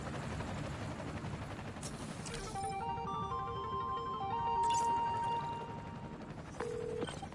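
A helicopter in the Spider-Man Miles Morales video game holds a steady rotor drone throughout, joined by brief sharp electronic tones and game effects, with no talking.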